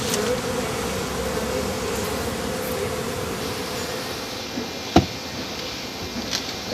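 Honeybees hum in a dense, steady drone around a hive as it is closed up, with a sharp knock of wood partway through and a softer tap near the end.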